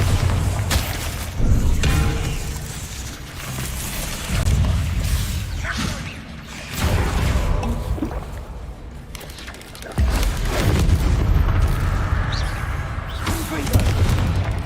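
Bombarda explosion spells in Hogwarts Legacy, repeated heavy booms and whooshing blasts amid combat noise, recurring every few seconds with a voice calling out between them.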